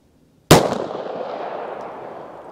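A single sharp gunshot from a snub-nose revolver firing hard cast rounds, loud and close, with a long reverberant tail dying away afterward.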